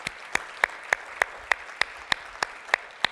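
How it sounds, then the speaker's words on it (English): An audience at a talk claps in a steady, evenly spaced rhythm, about ten sharp claps over three seconds, moderately loud with no voices over it. "That deserves a wild round of applause."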